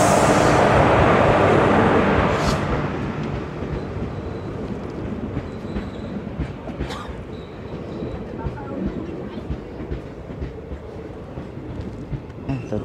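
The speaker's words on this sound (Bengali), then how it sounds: "তো ট্রেন চলে এসেছে," A train made up of ICF coaches rolls into a station, a loud broad rumble at first that eases into a steady, softer rail rumble with faint clicks and squeals as it slows.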